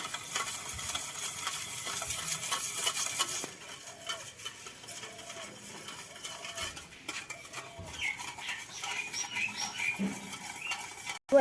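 Milk and sugar stirred together in a bowl for a Christmas cake batter, a continuous close scraping and swishing of a spoon with soft patter and occasional light clinks against the bowl.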